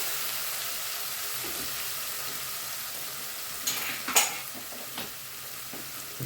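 Ingredients for koshari sauce, including a half spoon of sugar, stirred as they fry in a pan: a steady soft sizzle with a few spoon scrapes and clinks near the end, no voices.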